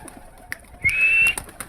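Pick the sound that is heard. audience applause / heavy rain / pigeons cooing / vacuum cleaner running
pigeons cooing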